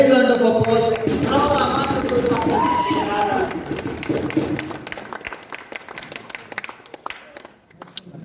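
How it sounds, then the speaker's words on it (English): At a school closing ceremony, a crowd rises and bursts into loud, close clapping with cheering voices, the applause thinning into scattered claps toward the end. "Let us all rise and give a big round of applause."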